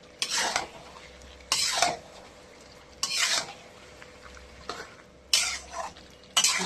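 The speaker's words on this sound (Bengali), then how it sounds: "মাংস কষানো চলছে আমাদের" Mutton sautés in a pot as a spoon stirs it in bursts, each stroke a scraping clatter of metal on the pan, repeating roughly every second or two over a faint, low sizzle.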